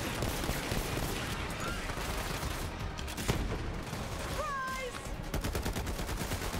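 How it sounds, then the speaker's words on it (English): Video game gunfire in Borderlands 3, rapid bursts of shots rattling continuously under a busy mix of game effects, with a sharp crack standing out midway and a faint voice underneath. "You were just shooting at the stairs there"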